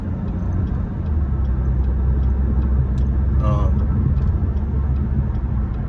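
Steady low road rumble inside a moving car, a continuous broadband drone that stays even and fairly loud throughout, with faint light ticks above it.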